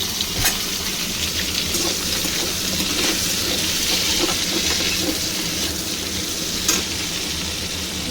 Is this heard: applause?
no